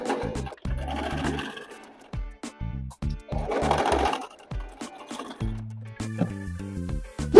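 A sewing machine sews a belt seam with a quarter-inch stitch, running in short bursts with a loud, close mechanical whir and pauses between runs.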